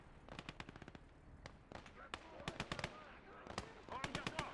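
Rapid bursts of machine-gun and rifle fire in the WWII strategy game Gates of Hell: Ostfront, irregular volleys and single sharp shots, some close and some farther off, with talk running over the battle noise.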